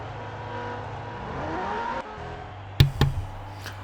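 A Lamborghini Huracan races in the Real Racing 3 mobile game, its engine revving up steadily with a rising whine, then a gear change and sharp bursts of engine noise.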